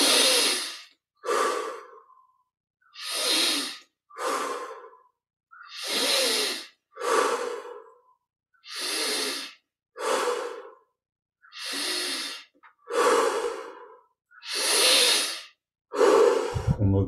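Slow, deep meditative breaths during a guided yoga meditation, each long inhale and exhale clearly audible and close, repeating at an even pace with short silences between them.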